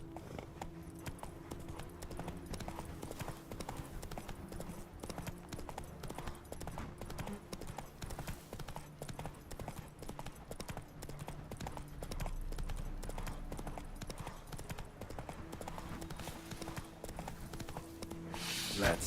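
Horse hooves clip-clop at a steady riding rhythm throughout The Witcher 3, with a low hum of game ambience underneath and a brief louder swell near the end.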